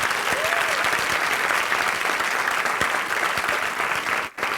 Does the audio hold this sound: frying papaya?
no